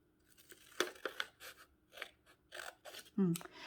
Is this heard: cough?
no